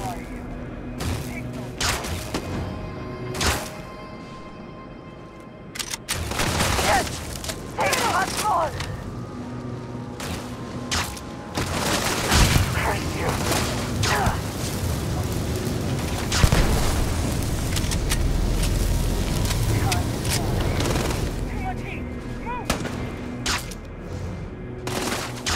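Gunfire from an inaccurate weapon in Starfield, sharp repeated shots in bursts and single cracks with heavier booming blasts, loud and close, while a person talks intermittently over the fighting.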